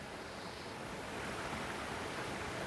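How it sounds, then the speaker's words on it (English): Steady broadband rush of a creek flowing past a campsite, an even, continuous water wash that swells slightly partway through, close and unbroken with no voices. "Listen to this creek."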